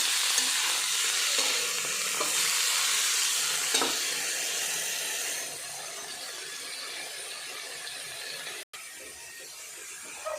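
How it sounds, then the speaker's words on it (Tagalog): Tofu frying in a pan for a vegetable dish, a dense steady sizzle close by that eases slightly partway through, with no voices. "Fried muna natin ang tokwa."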